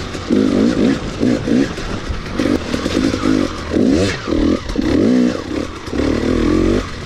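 A 2018 KTM 250 XC-W TPI two-stroke dirt bike is ridden on a trail, its engine rising and falling in repeated revving bursts, loud and close, with brief throttle-off gaps between pulls.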